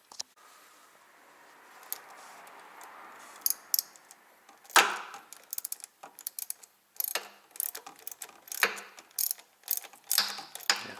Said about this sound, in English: I'm gonna tighten everything up.